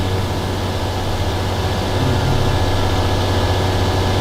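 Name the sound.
tractor engine in a video game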